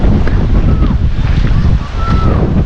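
Strong wind buffets the microphone at a seaside pier in Damortis, La Union, a steady roar of gusts blended with surf, dipping briefly before surging again.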